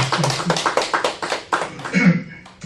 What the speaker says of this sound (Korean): 우리 함께 경외 박수하겠습니다.